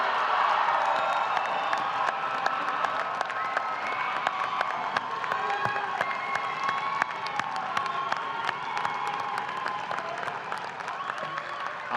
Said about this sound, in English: How about a round of applause for the graduating class of